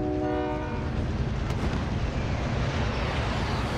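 Train in the video game Need for Speed Most Wanted: a loud rumbling rush of rolling rail noise opens with a brief horn-like harmonic blast, then settles into a dense continuous roar without speech.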